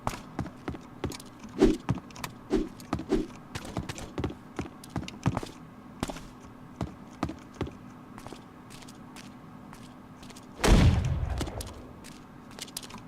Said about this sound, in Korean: 어제 총소리 나는데?